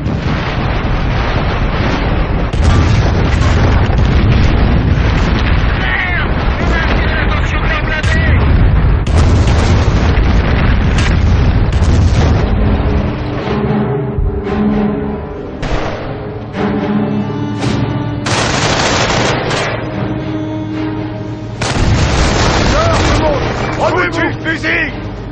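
Company of Heroes battle with loud rapid gunfire, heavy artillery booms and explosions, dense and continuous, with deep blasts rolling through and shouted soldier voices mixed in.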